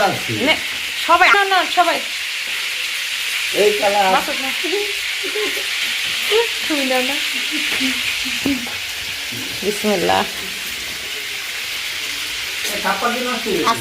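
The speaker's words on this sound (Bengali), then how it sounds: "এখানে চিকেনগুলো ভেজে দিচ্ছি আজকে" Chicken pieces for biryani fry in a pan with a continuous, lively sizzle and crackle, while a person talks intermittently over the cooking.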